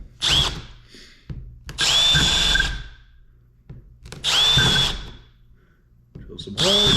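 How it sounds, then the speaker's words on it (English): A power drill whines in several bursts of one to two seconds each, drilling holes in a Hobie 16 catamaran, separated by short pauses with faint handling noise. "drill some holes."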